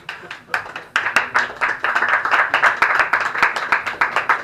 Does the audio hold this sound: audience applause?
yes